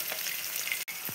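Peanuts, onion and chillies frying in a pan give a steady, close sizzle that carries on alone, with a brief dropout near the end followed by a soft low knock.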